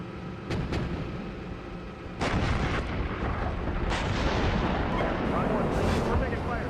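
Incoming gunfire during a military exercise arrives as loud, heavy reports and sustained rumbling bursts, with a few sharp cracks early and continuous booming after.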